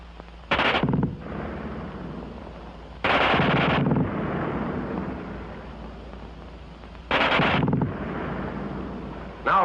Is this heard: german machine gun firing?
yes